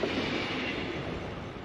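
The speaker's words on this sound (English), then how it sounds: "So hold on, there's a train here." A train passes by outdoors near a cyclist, giving a steady broadband rumble and roar that holds evenly throughout with no speech.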